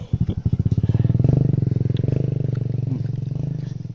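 A motorcycle engine puttering loudly close by on a rural road, its rapid regular pulses rising as it passes and then holding steady.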